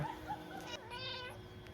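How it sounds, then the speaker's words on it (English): A garden cat gives a couple of short, close meows, fairly quiet over faint outdoor background. "look at this cat"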